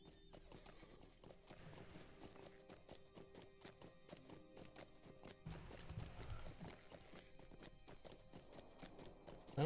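Horse hooves clip-clop at a steady walking rhythm in the online game The Lord of the Rings Online, at moderate volume and growing a little louder toward the end, with game music or ambience underneath.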